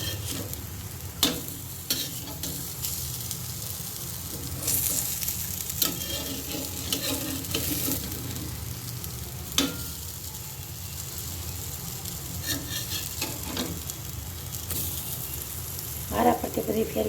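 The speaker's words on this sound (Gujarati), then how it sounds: "મીડિયમ ગેસ ઉપર આપણે તળીશું" Farali patties shallow-frying in oil on an iron griddle over a medium gas flame, giving a dense, constant close sizzle with occasional clicks and scrapes as they are flipped; no talking.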